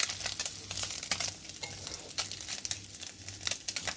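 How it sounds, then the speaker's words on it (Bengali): Small chuno and morola fish frying in hot oil, a steady dense sizzle with crackling pops and scraping stir strokes throughout, close and moderately loud with no talking. "আমি এখন আস্তে আস্তে চুনো মাছগুলো সবগুলো ভেজে নেব।"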